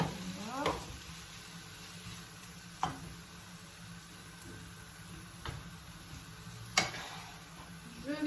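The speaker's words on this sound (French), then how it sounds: "après avoir laissé cuire 5 minutes, je vais y ajouter les légumes" Vegetables sizzle quietly in a pan while stuffed peppers with rice and coley fillet are being cooked. A soft, even hiss carries on throughout, broken by a few sharp utensil clicks.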